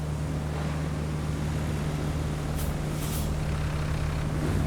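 Truck in the Road Craft video game, a loud constant low engine hum with steady broadband hiss and two brief high air-brake-like bursts near the middle, no voices.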